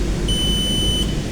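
A digital multimeter gives a continuity beep while an electric drill's power cable is tested, a single thin high beep lasting under a second over a noisy background hum.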